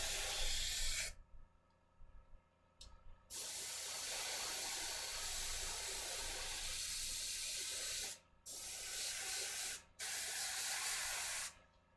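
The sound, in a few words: airbrush spraying dust glaze on Gaslands model vehicle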